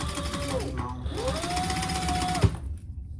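A sewing machine topstitches the outside panel of a zippered pouch, running in a steady close whir with a rising then falling pitch before it stops with a soft thump.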